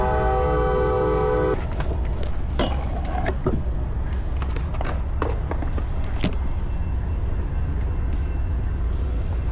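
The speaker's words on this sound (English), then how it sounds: "the train's coming" A train horn sounds a sustained chord for over a second near an urban street skatepark, then the passing train rumbles and clatters with sharp metallic bangs and squeals, loud and close.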